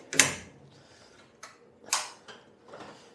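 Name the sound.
tool chest drawer opening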